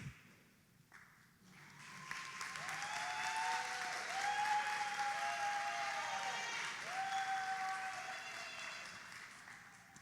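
A crowd at a community cabinet meeting applauds as Mayor Jones is introduced, with sustained moderate clapping and faint whistle-like tones mixed in, rising after a brief pause and holding steady to the end.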